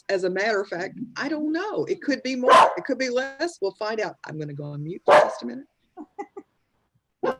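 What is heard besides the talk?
dog barking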